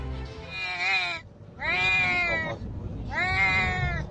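Kitten stuck in a hole in a construction-site gate, meowing three times in loud, drawn-out, plaintive cries separated by brief pauses, up close with no talk.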